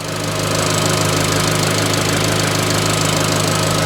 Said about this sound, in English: And it sounds good as well, actually. Engine's nice and quiet.